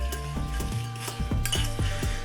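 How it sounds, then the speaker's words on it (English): Crushed biscuits and melted butter stirred in a bowl make a quick, rhythmic run of close scraping strokes, with a spoon clinking faintly and soft music underneath. "add your biscuits in and give it a good old stir until it's all incorporated"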